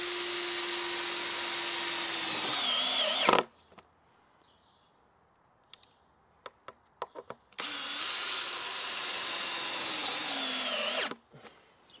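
A power drill drives screws into metal bands on a DIY mason bee house, whirring loud and close in two sustained runs, with a few light taps and clicks in the quiet between them.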